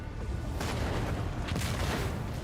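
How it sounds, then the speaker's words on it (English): Deep, rumbling explosions in a video game roll out in two or three heavy booming bursts, loud and close, with low thunder sustained between blasts. "Explosions."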